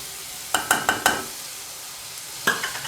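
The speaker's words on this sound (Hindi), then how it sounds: "तो एक दफ़ा इसको अच्छी तरह मिक्स करके साथ इसमें दही ऐड कर दी।" A spoon stirs masala and yogurt frying in a pan for daal karela. Five sharp scraping clacks come in quick succession, followed by one more after a pause, over a steady, soft sizzle, close up and with no talking.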